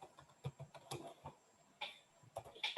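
Computer keyboard typing in a few quick bursts of close, light key clicks, separated by short pauses, with no voices.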